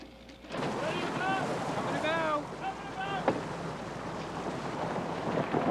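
Cruising yachts sail at sea on a race from Marion, Massachusetts to Bermuda, giving a steady rush of wind and water across the hull and rigging, with voices talking faintly over the broad, constant noise.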